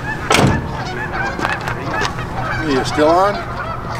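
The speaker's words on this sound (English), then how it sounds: "Now we'll hear the geese." Geese honk loudly and nearby in cold Colorado weather. Several distinct calls come in a cluster, and a brief exchange of human speech runs over the start.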